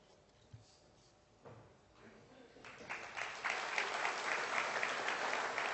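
At an ICASSP awards ceremony, a few scattered claps swell into full, sustained audience applause that fills a large hall and grows steadily louder toward the end.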